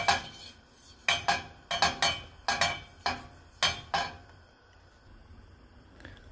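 A metal pan set down on a stove for ragi roti gives a series of sharp clanks and clinks, about eight close knocks in a loose rhythm before going quiet.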